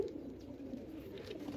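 A pigeon coos in a loft among prized breeds, a low soft rolling call repeating continuously, faint and fairly near against light background noise.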